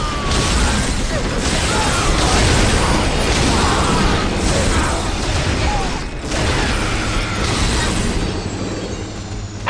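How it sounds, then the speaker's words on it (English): Rumbling Land Raider tanks rolling forward in Warhammer 40,000 Dawn of War, a loud continuous mechanical grind with repeated thuds and blasts of battle around them. "I'll start moving these Land Raiders across"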